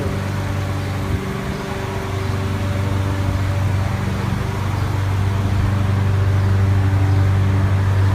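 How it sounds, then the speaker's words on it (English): A lawn mower or leaf blower runs nearby, giving a loud, steady motor drone with a strong low hum. It continues unbroken for the whole stretch, with only a small shift in pitch early on. "Somebody's coming up with like a lawnmower or a lawn blower."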